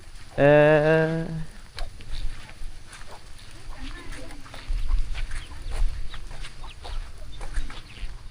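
Chickens in a flooded village, starting with one loud rooster crow near the start, followed by scattered soft clucking under background noise and intermittent quiet voices.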